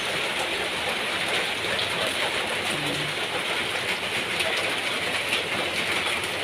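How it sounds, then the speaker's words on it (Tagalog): Dense, steady roar of heavy rain pounding surfaces at night, constant and loud with no voices, a broad hiss filling the whole stretch. "Ang lakas ng ulan guys."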